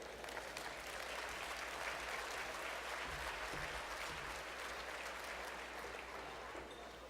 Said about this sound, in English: How about a round of applause for Pam?